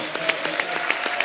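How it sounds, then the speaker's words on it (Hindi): Studio audience on The Kapil Sharma Show claps for Sanu Da, Udit and Anuradha, a steady, fairly loud wash of applause with distinct individual claps popping out, ending on a sharp low thump. "एक बार शानुदा, उदित सर और अनुराधा जी के लिए जोरदार तालियां"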